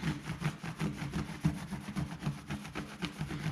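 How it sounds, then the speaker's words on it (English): Ordinary cloth soaked with WD-40 rubbing over white lettering, a steady rhythmic back-and-forth scrubbing, close and moderately loud, with no talking. "let's see to what extent an ordinary cloth and the WD-40 works on this"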